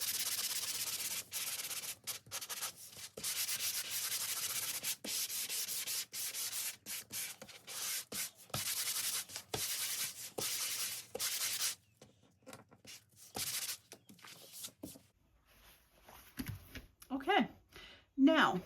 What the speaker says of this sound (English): I forgot to sand this